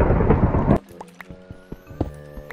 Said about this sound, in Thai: โอ้โหทำไมฟ้าผ่าบ่อยจังวะ